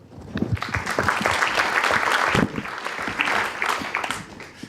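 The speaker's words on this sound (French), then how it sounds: "Donc je vous demande d'applaudir Thomas." Audience applause at a Lift conference talk on biohacking and innovation: a burst of clapping from a seated crowd, building quickly, holding loud, then thinning toward the end.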